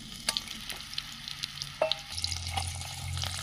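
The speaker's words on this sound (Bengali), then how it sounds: "এখন তেলটা গরম হয়ে এসছে, আমি সেদ্ধ করা আলুগুলো এর মধ্যে দিয়ে দিচ্ছি।" Boiled potatoes going into hot mustard oil in a wok, giving a soft sizzle with scattered clinks and stirring scrapes, fairly quiet and close, followed by a steadier low frying hum.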